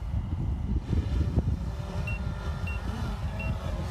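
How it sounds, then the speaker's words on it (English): Wind gusts buffet an outdoor microphone during a drone launch, a steady low rumble with surging bursts, and a few faint short beeps in the background. "Quite a bit of wind right now."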